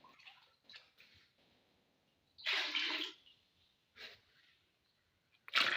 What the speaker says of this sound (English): I'll add my remaining 2 liters of water.